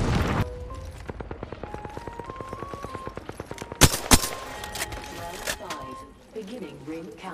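Rapid automatic gunfire in the battle royale game Apex Legends rattles off in a steady burst, then two sharp, loud shots crack out, with a voice talking over the action.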